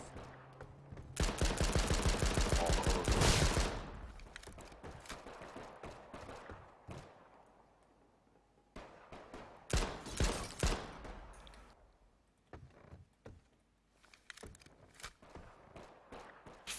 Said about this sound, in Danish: hvor der bliver skudt her